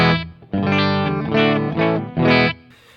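An electric guitar plays a few sustained chords at its basic clean tone through a Fender Deluxe Reverb amp, ringing with chorus-like shimmer and slight grit, played alone with no voices.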